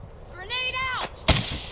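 Grenade blast in Call of Duty Modern Warfare II (2022): a single sharp, loud explosion cracks out after a brief rising whistle-like tone, with a short rumbling tail.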